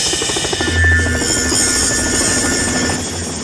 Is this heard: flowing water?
no